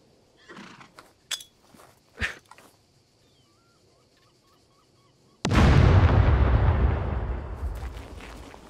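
A horse whinnies in the survival video game Scum, a few short separate calls over the first two seconds, then a loud sustained blast of noise that slowly fades.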